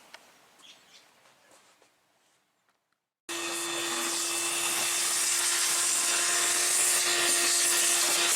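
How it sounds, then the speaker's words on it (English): A vacuum cleaner switches on abruptly after a few seconds of quiet rustling and runs with a loud, steady whine while cleaning debris out of a car's trunk gutter. "Let me vacuum these leads up first"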